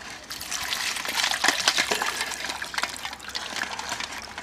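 Water poured in a village outdoor kitchen while a large crab is prepared, a steady close trickle and splash that swells and eases, with no one talking.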